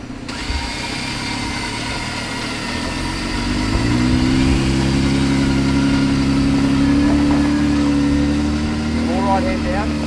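A 4x4 climbs a rough bush track while being winched in, its engine droning loud and close and rising in pitch as it pulls harder, with a whining winch motor mixed in and no clear talk over it.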